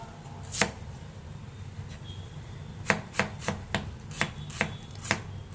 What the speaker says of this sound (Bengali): পেঁয়াজগুলো কেটে নিই।